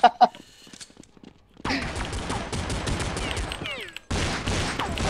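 Gunfire from Counter-Strike 1.6 on the Dust2 map: a couple of sharp shots over a quiet stretch, then a long, loud volley of rapid fire that cuts off briefly and resumes, with voices talking over it.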